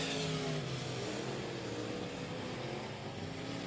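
Race cars circle a dirt speedway oval at 67 Speedway of Texarkana, well spread out on the final lap, their engines blending into a steady, loud, continuous roar with no break.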